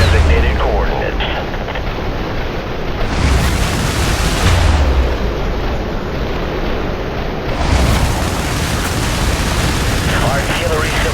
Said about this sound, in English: Airstrike approaching to designated coordinates.